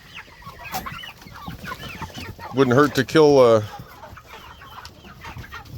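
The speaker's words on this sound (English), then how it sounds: "And then we got some meat birds." Chickens raised as meat birds cluck and squawk nearby, with a louder burst of calls midway, while someone talks over the flock.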